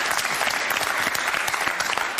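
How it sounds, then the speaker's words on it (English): A studio audience at a BBC Question Time debate gives a brisk, loud round of applause, dense continuous clapping throughout. "Round of applause from the audience."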